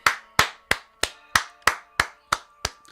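Slow, deliberate claps, about nine sharp and evenly spaced hand strikes at roughly three per second, each ringing briefly, heard alone with no voices.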